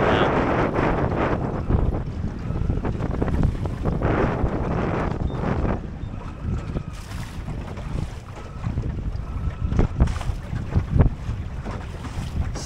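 An outboard motor pushes a Drascombe Lugger sailing boat along, its engine noise mixed with strong wind buffeting and water rushing past the hull, continuous and fairly loud outdoors at sea with no clear talking.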